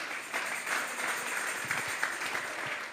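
A church congregation at a youth service breaks into brief applause, a soft wash of many hands clapping somewhat faintly in a reverberant hall.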